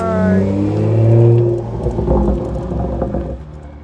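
A BMW 335is N54 engine revs loudly with a throaty performance exhaust rumble, rising then settling into a rough idle, with a few faint voices nearby.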